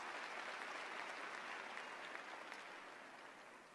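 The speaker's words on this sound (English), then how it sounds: "Let's give them a round of applause as well." Audience applause for ROTC officers at a university live event, a dense, even patter of many hands clapping at a distance, holding steady and then slowly fading toward the end.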